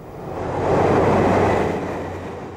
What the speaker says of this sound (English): This one has a pair of Class 156 sprinters.